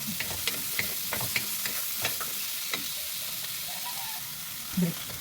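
Vegetables sautéing in a pan for a home-style mixed vegetable dish, a steady sizzle broken by repeated scraping stirs of the spatula, close and moderately loud.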